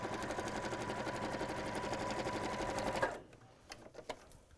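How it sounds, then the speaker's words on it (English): A sewing machine runs a reverse stitch on pockets, a fast, even mechanical whirr at close range for about three seconds, then it stops and a few faint clicks follow. "So starting with that reverse stitch again."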